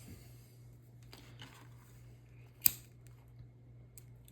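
Scissors cut through leather for a long wallet with T pockets: a single sharp, close snip stands out against a quiet background hum.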